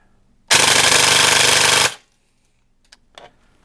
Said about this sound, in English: let's go ahead and shoot full auto and see what we get